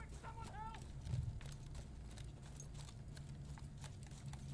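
Faint, distant horse hooves in Battlefield 1 on Xbox One X, a steady clip-clop from a galloping mount under low battlefield noise, with a short tonal game sound near the start.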